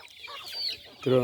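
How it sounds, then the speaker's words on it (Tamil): Native chickens and chicks clucking on a poultry farm, a soft scatter of calls building to a louder, harmonic squawk at the end; no talking. "ஒரு மாத கோழி குஞ்சு, 2 மாதம் கோழி குஞ்சு எல்லாம் நிறையா இருக்குது."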